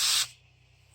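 A short, loud burst of water spraying out of a device hisses for a fraction of a second, then cuts off abruptly, leaving a faint low pulsing hum.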